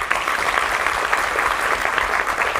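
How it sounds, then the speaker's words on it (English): An audience at a UPSC preparation guidance talk claps for themselves in a steady, dense round of applause, loud and close throughout the short stretch with no voices over it. "clap for yourselves"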